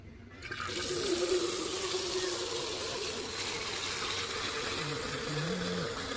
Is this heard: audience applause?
no